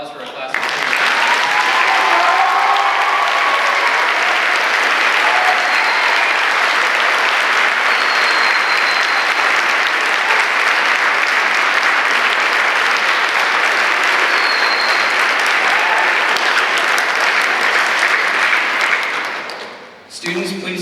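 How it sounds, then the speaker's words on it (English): Graduating pharmacy students of the Class of 2022 receive sustained, loud applause from a large audience at their White Coat Ceremony, a dense roar of clapping that holds steady for about twenty seconds before tapering off abruptly. "Everyone, give a round of applause for our class."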